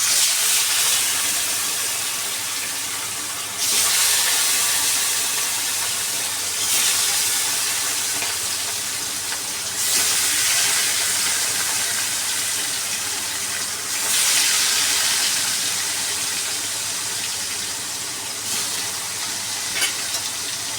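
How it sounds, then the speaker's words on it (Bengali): Fish rubbed with turmeric and salt fry in a wok, a dense continuous sizzling hiss that swells in waves as pieces go in and settle, close and loud with no talking. "এখন মাছগুলোকে একে একে ভেজে নেব।"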